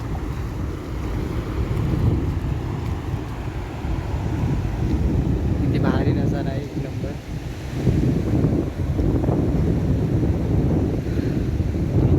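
Waves wash in and roll over the shore at Kelshi beach amid heavy wind buffeting the microphone, with a faint voice briefly audible.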